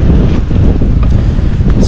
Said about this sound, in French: il y a pas mal de vent ici